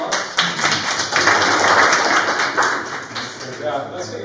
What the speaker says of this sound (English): Let's give Good a to one final round of applause.